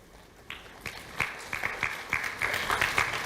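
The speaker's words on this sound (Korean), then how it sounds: "박수 한번." An audience at a lecture breaks into clapping that starts sparse and builds into steady, moderately loud applause with distinct individual claps.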